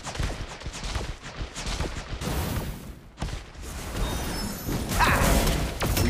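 Walking barrage attack in the video game Marvel Super War, a dense run of crashing impacts and rapid gunfire-like blasts with whooshes, loud and nearly continuous, with a brief dip midway before it swells again.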